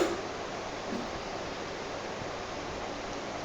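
Two and a half cups of plain water pour into a mixer jar, a steady, close rushing splash that holds an even level for the whole stretch without breaks.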